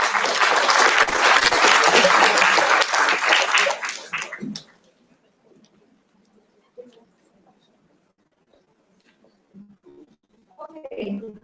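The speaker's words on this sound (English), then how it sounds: "So let's give applause." Conference audience at an event applauding as a speaker is called to the stage, several seconds of full clapping that fades out abruptly, followed by near silence with faint rustles and brief murmurs.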